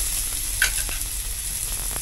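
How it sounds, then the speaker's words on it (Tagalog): Garlic and onion sautéing in a pan for a pesto pasta sauce, a steady close sizzle with a few faint stirring scrapes and no one talking. "Gisa muna natin."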